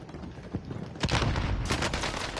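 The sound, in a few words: gunshots in Call of Duty Warzone video game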